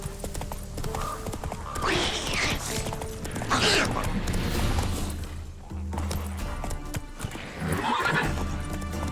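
A horse whinnies loudly several times, close by, while its hooves clip-clop steadily and something creaks faintly in between.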